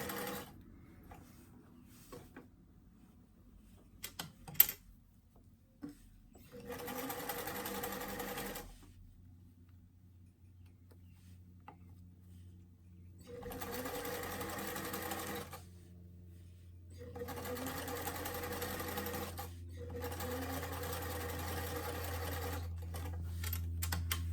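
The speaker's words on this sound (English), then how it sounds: "Next, we're going to go ahead and sew the neck edge." A sewing machine stitches the neck edge of a lined doll dress in several separate bursts of rapid, clattering needle action, each run lasting a few seconds with quiet pauses and faint handling noises between them.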